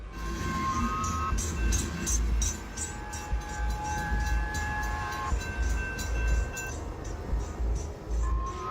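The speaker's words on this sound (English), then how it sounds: "As the train rushed by, the man's camera continued rolling." A train rumbles past close by, with deep low-frequency roar, rattling wheels and a brief tonal horn-like ring in the middle.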